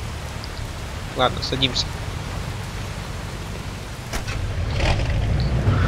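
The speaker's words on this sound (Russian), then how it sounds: "О, дождь разыгрался какой, да?" Rain pours steadily in Mafia 2, a constant broadband hiss that builds slightly toward the end, with a car engine faintly underneath and someone talking over it.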